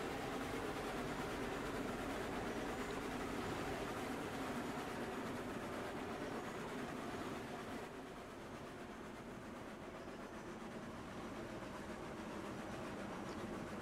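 Train running on rails in the video game Railroads Online, a steady rumbling roll with faint clickety-clack that carries on throughout and eases slightly partway through, with no talk.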